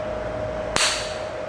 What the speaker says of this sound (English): Capacitor's charged, and now I discharge the capacitor.